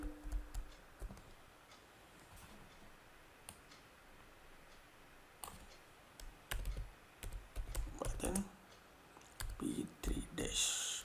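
Typing on a computer keyboard while entering values into a Python program, with scattered clicks and short bursts of keystrokes, closer and faster near the end, heard under someone speaking.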